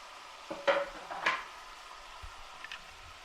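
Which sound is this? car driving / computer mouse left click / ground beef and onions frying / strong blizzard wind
ground beef and onions frying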